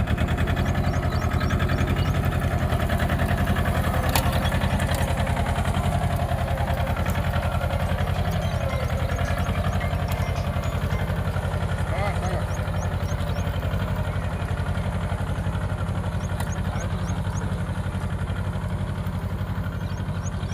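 A 24 HP tractor pulling a seed and fertilizer drill runs steadily, its loud, close engine chugging with a constant low rumble and mechanical rattle while someone talks over it.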